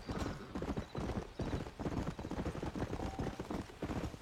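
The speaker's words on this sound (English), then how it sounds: "Oh, can you stop the horse?" Horse hooves clip-clop in a video game, a close, steady rhythmic trotting of rapid thuds that carries on throughout.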